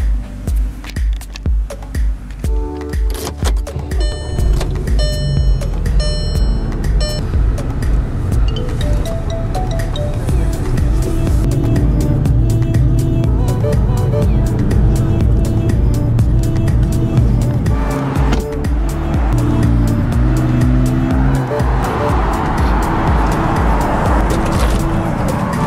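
A car on a drive to the store, its engine and road noise rumbling steadily throughout, with a rising whoosh of passing traffic near the end and no talking.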